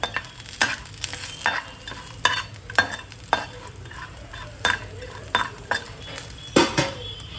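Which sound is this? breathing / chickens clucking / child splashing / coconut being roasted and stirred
coconut being roasted and stirred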